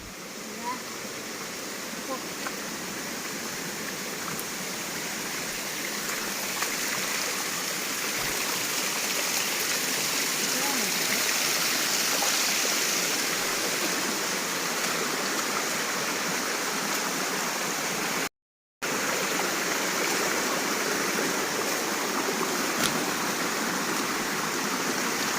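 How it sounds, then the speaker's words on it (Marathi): A stream of flowing water on farmland in the Konkan countryside gives a continuous, even rushing roar for the whole stretch, with voices talking faintly beneath it. "पर्याला पाणी मोठं आहे जरा."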